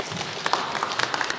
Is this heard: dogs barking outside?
no